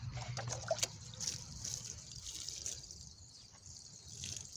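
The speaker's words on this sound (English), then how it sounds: "Then I'm going back there to water the beets with this fertilizer" Water mixed with bone meal fertilizer is poured from a container onto a bed of beets, making a soft, close trickle and splash that runs steadily for several seconds.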